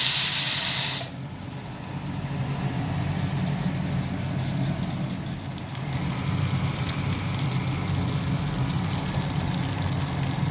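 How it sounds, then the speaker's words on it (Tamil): A pressure cooker on a home kitchen stove lets out a sharp, loud burst, then a steady, close hiss of escaping steam that continues for several seconds with no talking. "இந்தாண்ட குக்கர் விசில் வந்துட்டுருக்கு."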